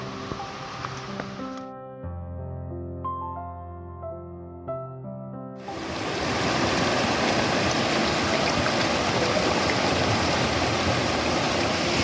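Sustained musical tones give way to a loud, steady rush of flowing stream water near Kottoor waterfall that continues to the end.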